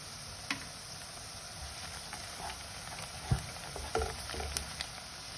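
Whole cloves, green cardamom and cinnamon pieces sizzle with fried onions in a pan, a steady close hiss with scattered small pops and clicks throughout.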